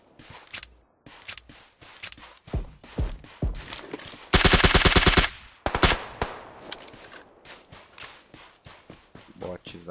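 Rapid bursts of gunfire in PUBG Lite crackle throughout, including a sustained machine-gun stretch in the middle, with scattered single shots and footsteps around it.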